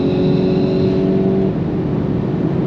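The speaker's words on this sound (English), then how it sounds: "A little bit of a squirm off launch, rolling into the throttle a little too quickly." A VW GTI MK8 launches on a drag strip, its engine roaring loud and close with a rising tone that then drops as it pulls away.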